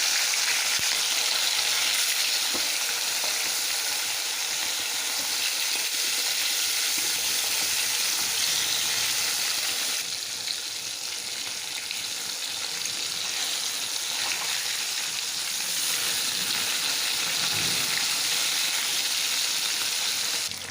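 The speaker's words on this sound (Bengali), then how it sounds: "এখন মাছটাকে একটা করে আমি ভেজে নেবো" Fish pieces fry in hot oil in a pan with a continuous loud sizzle and crackle that lasts throughout, and at one point the texture of the sizzle shifts.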